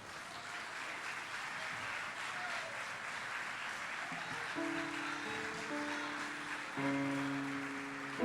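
A church congregation applauds in a steady soft wash of clapping, fairly distant and even, while sustained organ or keyboard chords enter partway through and swell beneath it.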